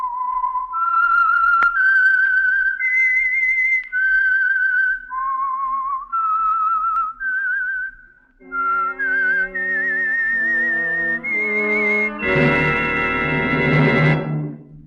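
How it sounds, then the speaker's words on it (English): A clear, melodic whistled tune rising and falling, solo and close, the signal tune of the radio program The Whistler, ending in a brief burst of brassy orchestral music. "the signal to listen for is this whistle that identifies the Signal Oil program"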